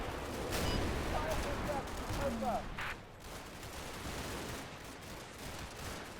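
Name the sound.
mortar and gunfire in a WWII strategy video game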